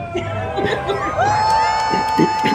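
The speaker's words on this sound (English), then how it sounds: "Here's the crowd." At a nighttime theme park show, a crowd cheers and whoops at moderate distance in a steady wash of voices, with scattered shouts and a sustained tone running through it.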